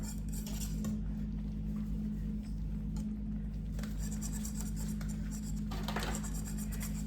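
A spoon scrapes softly around a pot of boiling homemade jam, skimming foam off the top. Repeated light metallic scrapes sit over a steady low bubbling hum, with no voices.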